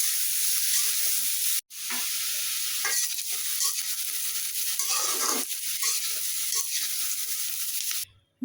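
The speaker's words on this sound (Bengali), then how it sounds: "লবণ দিলাম, আলুগুলো একটু ভালো করে ভেজে নিব" Potatoes fry in a pan with a steady, close sizzle and hiss, stirred at intervals by a few soft scraping strokes and clinks, with brief cuts where the frying drops out.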